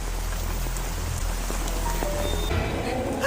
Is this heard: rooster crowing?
no